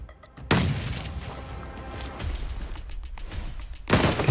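Grenade explosion in PUBG Mobile during a championship match, a sharp heavy boom that opens the sequence, followed by rumbling battle noise and a second loud blast at the end.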